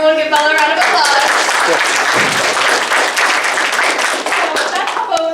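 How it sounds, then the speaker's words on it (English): A room gives Bella a round of applause during a capstone presentation, loud close clapping with a voice speaking over it at the start and end. "Everyone give Bella a round of applause"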